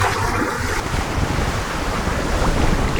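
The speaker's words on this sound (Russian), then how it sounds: "Волны у берега прям хорошие." Ocean waves break on a tropical Philippine shore in a loud, full wash of surf with strong wind buffeting the microphone, continuous and close throughout.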